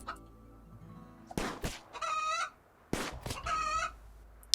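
Chickens in the video game Rimworld, a rooster and a hen, give two short bursts of squawking and clucking, each followed by a brief crowing call, fairly close and clear against quiet game ambience.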